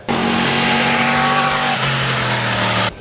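A Yamaha YZF R1M sportbike engine revs up close in one held burst of throttle, a strong steady roar that steps down in pitch partway before cutting off.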